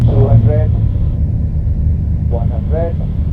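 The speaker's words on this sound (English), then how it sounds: "We are on a final approach." A small airplane on final approach, just before touchdown, with a steady low engine drone throughout and brief voice bursts over it.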